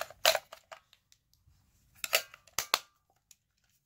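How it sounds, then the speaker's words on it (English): Batteries pulled out of a night vision monocular during a teardown: a handful of sharp plastic clicks and snaps, close and fairly quiet, in two short bursts with a pause between. "we are going to remove the batteries"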